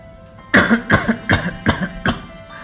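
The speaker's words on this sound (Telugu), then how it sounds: "ఈ దగ్గు మొన్న నుంచి బాగా సతాయిస్తుంది" A person with a persistent cough lets out a rapid series of about six harsh, close coughs in quick succession, clear and loud against a quiet background.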